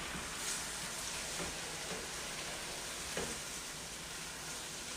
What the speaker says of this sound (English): So I added about 4 ounces of white wine there